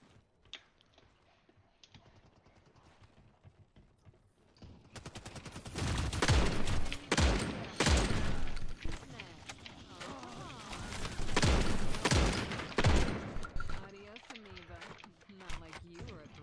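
Shotgun blasts in the online shooter Ascendant, several loud bursts of gunfire from about five seconds on, clustered between six and thirteen seconds, with softer clicks and game noise before and after.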